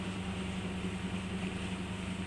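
A Beneteau Gran Turismo 36 motorboat runs underway through choppy water, its steady engine drone mixing with wind and rushing water in a constant, dense roar.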